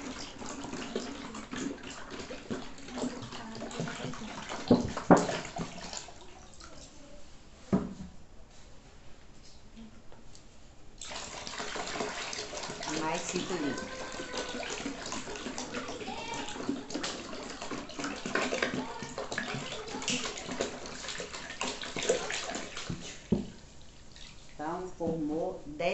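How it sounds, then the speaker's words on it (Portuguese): Ten litres of water poured into a basin for mixing homemade disinfectant, a steady splashing pour with a few sharp drips and clinks, mostly alone with brief quieter gaps. "E aqui você vem com uma bacia, colocando os 10 litros de água."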